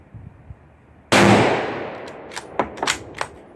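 A Remington 783 bolt-action rifle chambered in .243 fires a single Hornady SST round: one sharp, loud report with a decaying outdoor echo, followed by a few faint clicks and rattles.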